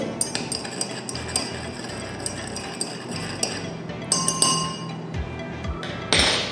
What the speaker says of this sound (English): Now I will stir it